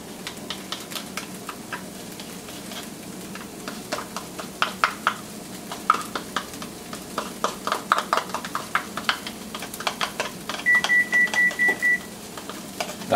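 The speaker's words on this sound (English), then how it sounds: "That beep means our oven's finally at the temperature." A kitchen oven beeps as it reaches baking temperature, a string of short, evenly spaced electronic tones near the end, set over soft clinking and stirring noises from cooking preparation.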